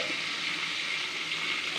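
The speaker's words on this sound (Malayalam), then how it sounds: "നല്ലോണം തിളക്കുന്നുണ്ട്." A steady, dense bubbling hiss of payasam boiling hard in a pot, continuous and close, with no voices.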